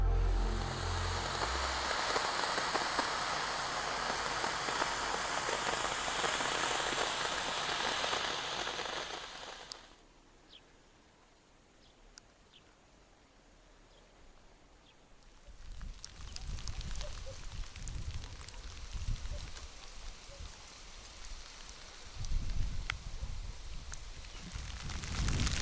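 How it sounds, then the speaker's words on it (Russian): Hail falls outside, a dense crackling patter that is loud for about ten seconds, goes nearly quiet, then returns as scattered irregular hits. "сейчас в данный момент град идет"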